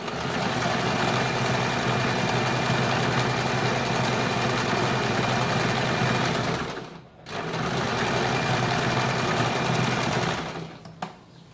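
A sewing machine runs steadily while stitching a double seam on a kurti, a loud continuous mechanical whir with one short pause near the middle and a brief stop near the end.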